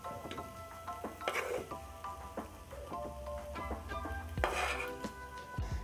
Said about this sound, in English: Then I'm going to serve in my bowl.